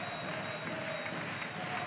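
Arena crowd at a Romania v Italy FIBA Basketball World Cup 2019 European qualifier, a steady wash of cheering and applause filling the hall, loud and continuous throughout.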